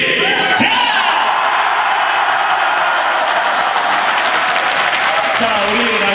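An audience of visually impaired guests at an orchestra concert in a Gyeonggi arts center roars together in one loud, sustained shout that fills the hall for several seconds, with a few whoops and some clapping rising over it.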